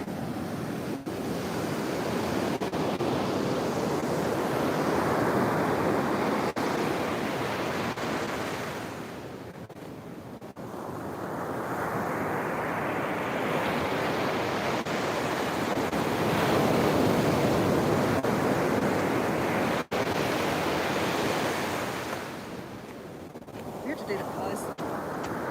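Ocean surf on a beach in Bali rolls in as loud, broad washes of breaking waves that swell and recede, with heavy wind buffeting the microphone throughout.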